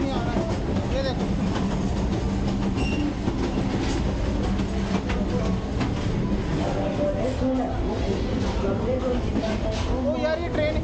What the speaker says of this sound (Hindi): ट्रेन स्टार्ट हो चुकी है चलना, तो भाई यार ये बहुत ज़्यादा हिल रही है